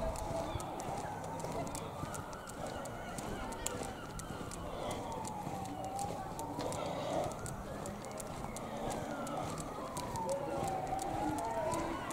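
A wailing ambulance siren rises and falls in slow sweeps, fairly faint and distant, over steady background noise with occasional voices.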